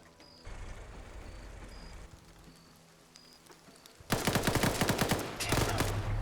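Bursts of rapid automatic gunfire break out loudly in a military shooter game after a quieter stretch of ambient sound, with several overlapping volleys close by.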